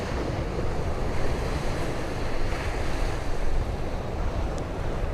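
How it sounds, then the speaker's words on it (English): Big ocean waves break continuously on a beach on the southern Oregon coast, a loud, steady roar of surf mixed with wind buffeting the microphone. "Some big waves coming in."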